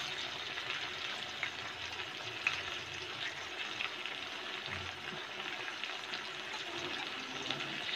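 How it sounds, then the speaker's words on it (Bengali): Spice paste for a crab curry fries in a pan with a steady, even sizzle at moderate level. The hiss runs unbroken throughout, with faint stirring clicks and no speech. "এবার কষিয়ে নেব।"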